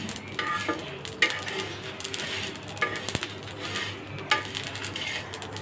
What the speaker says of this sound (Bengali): এখন আমি একে একে সবগুলো মশলা দিয়ে দিচ্ছি, দিয়ে একটু হালকা টেলে নেব